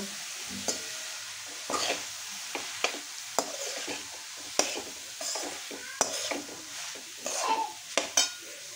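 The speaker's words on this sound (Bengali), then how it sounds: "বিটগুলো দেওয়া হয়ে গিয়েছে, এবারে কেটে রাখা গাজরগুলো দিয়ে নিচ্ছি। পরিমাণ মতো নুন দিয়ে নিচ্ছি। ভালো করে এগুলোকে ভাজা করে নেব।" Chopped beetroot and carrots being stir-fried with salt in a pan, a spatula scraping and tapping in irregular close strokes over a soft, quiet sizzle.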